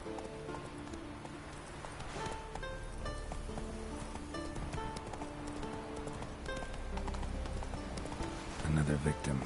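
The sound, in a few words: horse Roach galloping in a PS4 video game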